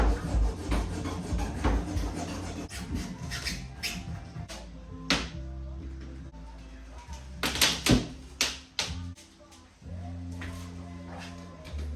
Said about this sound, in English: we're gonna try to cut through this old windshield to pull it out